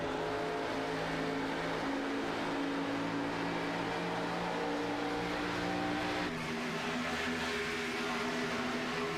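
A race car's engine drones steadily at high revs on an oval track during an Atlanta race, holding a continuous, slightly muffled tone that shifts pitch a little partway through. Nobody speaks.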